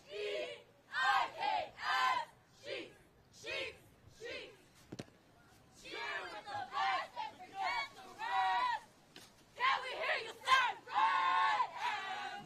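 A high school cheer team at a city section cheer championship shouts loud rhythmic chants in unison, bursts of group yelling repeating across the routine with a crowd joining in around them.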